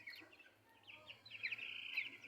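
Young broiler chickens about two weeks old, around 400 to 500 grams, chirp and cheep softly in a brief burst of high calls, growing busier toward the end over faint low background hum.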